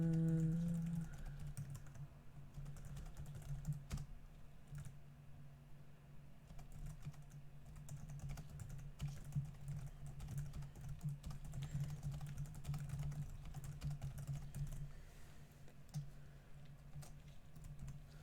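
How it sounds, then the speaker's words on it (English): Steady computer-keyboard typing while posting on Twitter, continuous clicking keystrokes over a low steady hum throughout, fairly close and moderately loud. "I'm typing this on Twitter right now."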